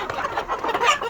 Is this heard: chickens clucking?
yes